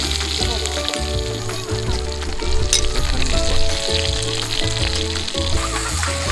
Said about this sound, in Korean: 너무 좋아 거기 굽는 소리가